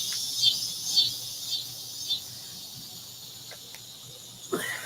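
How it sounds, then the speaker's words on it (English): Crickets chirp loudly in a steady high-pitched drone, with a few brief louder chirps standing out above the constant insect buzz. "I do not know why these crickets are like super loud today."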